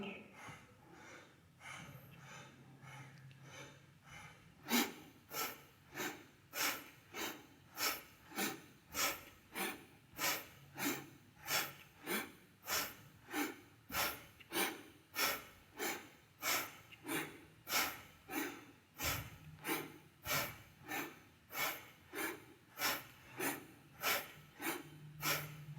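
Powerful rhythmic breathing from a Kundalini yoga kriya, a fast even series of forceful breaths close to the microphone, with a low voice briefly heard near the start and again near the end.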